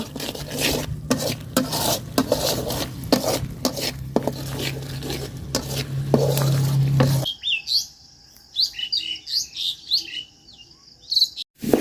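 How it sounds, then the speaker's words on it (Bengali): Ground cumin and turmeric fry in a cooking pot while a spoon scrapes and stirs in quick repeated strokes for several seconds. The stirring then stops, leaving birds chirping faintly outdoors. "আর দিয়ে দিলাম একটু জিরার গুঁড়া আর দিয়ে দিলাম হলুদ গুঁড়া মশলাটা খুব সুন্দর করে বাজা নিব"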